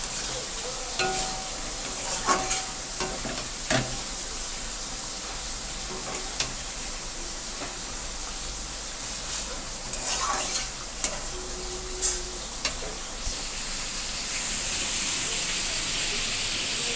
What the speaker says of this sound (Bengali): এখানে খাসির মাংস করছি, এই দেখো